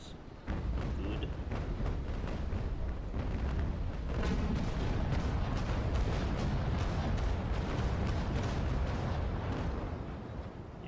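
Naval cannon fire rumbles through a sea battle in a sailing-ship video game, the Santisima against the Constitution and two Trincomalee frigates, with a steady roar of overlapping booms that never quite stops.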